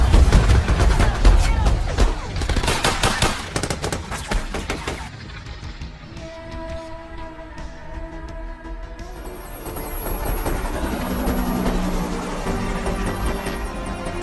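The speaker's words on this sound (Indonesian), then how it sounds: "Kita diperlihatkan dengan dua helikopter tempur yang melintas di perbatasan India dan Myanmar." Dense bursts of gunfire and explosions crash at close range, then give way to a steady rotor drone of two combat helicopters passing over the India–Myanmar border, with a faint high whine.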